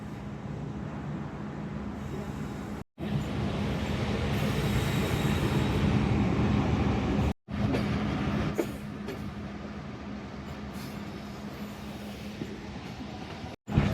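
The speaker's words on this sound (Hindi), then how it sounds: "एक मिनट के क़याम के बाद हम दोबारा रवाना हो चुके हैं गोजरा स्टेशन से।" Shalimar Express passenger train pulling out of Gojra station in Pakistan, heard from inside as a steady, loud rumble of wheels and carriage with a low hum and brief breaks in the sound, no talk.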